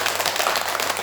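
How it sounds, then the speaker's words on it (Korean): Audience applause during a Dharma talk at a Buddhist temple, a dense, steady wash of clapping that lasts the whole second with no pause. "박수라도 보내라"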